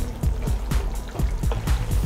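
Yogurt goes into a pan of Hyderabad-style chicken masala with soft, wet plopping and trickling sounds that come in quick, uneven pulses, close and fairly quiet, with no talk.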